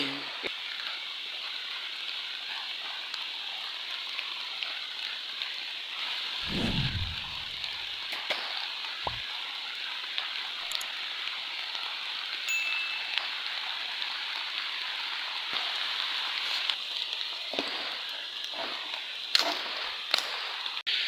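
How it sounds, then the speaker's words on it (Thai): Heavy rain falls in a constant, loud hiss in a bamboo forest, with a few scattered knocks and thumps nearby. "ฝนแรงมาก ก็เลยแบบวิดีโอก็หยุดถ่ายก่อนนะฮะ"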